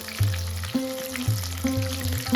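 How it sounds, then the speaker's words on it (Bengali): Pomfret fish frying in oil in a pan gives a steady close sizzle and crackle, with a few soft spatula touches as oil is spooned over, and a low humming tone repeating underneath; no speech. "এবার এক পিঠ ভাজার জন্য 4 থেকে 5 মিনিট অপেক্ষা করব, আর উপর থেকে তেলটা একটু করে খুন্তির সাহায্যে ছড়িয়ে দিচ্ছি।"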